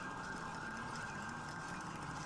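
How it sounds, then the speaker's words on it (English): Police sirens in a video game about justice-department cops wail steadily and continuously, a loud, sustained tone that fills the whole moment without any voices. "That's why I hear sirens"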